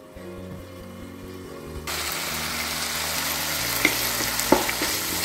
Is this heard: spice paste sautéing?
yes